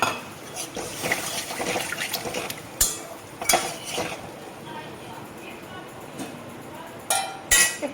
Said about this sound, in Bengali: এখন জল দিয়ে দেব, পরিমাণ মতো জল দিয়ে দিলাম